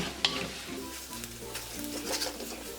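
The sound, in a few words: stirring spice powders frying in a pan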